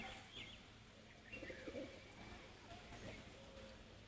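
Faint, low pigeon coos rise briefly over quiet outdoor ambience as birds drink water after feeding on scattered food, with occasional light chirps nearby.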